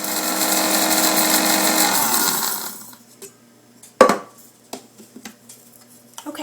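An electric grinder whirs loudly for about two and a half seconds while grinding kombu seaweed into powder, then stops, followed by a few light clicks and taps in the kitchen.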